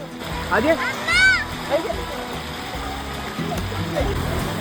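Stream water flowing at Vattayi waterfall in Thrissur, a steady close rushing wash with splashes, under the voices of children and adults talking nearby.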